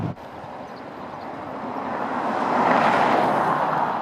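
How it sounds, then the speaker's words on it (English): Jaguar I-Pace electric SUV on 22-inch wheels driving over rough chip-seal backcountry road, a constant broadband tyre roar heard from inside the cabin that swells louder toward the end. "The tyres on those big 22-inch wheels are picking up a lot of road noise on our really rubbish backcountry rough chip surfaces here"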